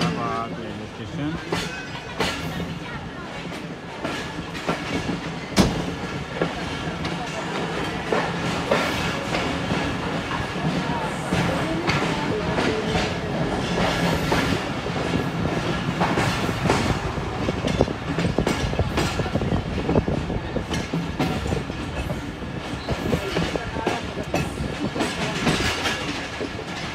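The Pakistan Express runs through Pakistan between Wazirabad and Faisalabad, heard from inside an economy class carriage: a steady loud rumble with continuous clickety-clack of wheels on rail joints and occasional sharp knocks, with talk faint underneath.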